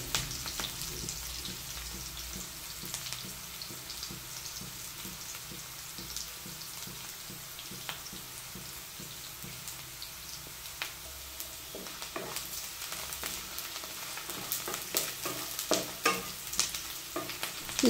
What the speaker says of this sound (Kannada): ಈ ರೀತಿ ಚೆನ್ನಾಗಿ ಕಂದು ಬಣ್ಣಕ್ಕೆ ಬರೋವರೆಗೂ ಹುರ್ಕೊಂಡಿರಬೇಕು